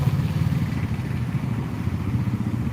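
Motorbikes on a busy road beside a footpath in Kollam give a steady low engine rumble with light clatter, moderately close and continuous, with no talk.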